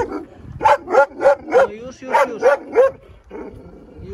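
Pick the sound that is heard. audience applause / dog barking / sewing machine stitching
dog barking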